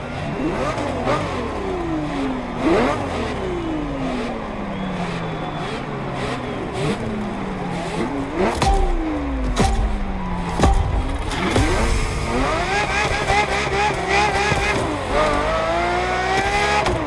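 A Ferrari F50 engine revs hard in a racing game, climbing and dropping through repeated sharp upshifts with a loud, close, continuous howl and brief tire squeal, no voices over it.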